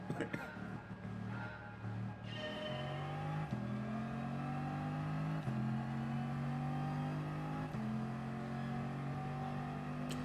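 Ferrari engine in a racing video game accelerating steadily through several gear shifts, rising revs with a step down at each change, loud and continuous while a person talks over it.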